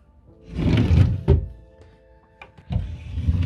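A dresser drawer in a baby's bedroom slides open and shut, producing a few hollow wooden thunks and scraping rumbles close by, separated by short pauses.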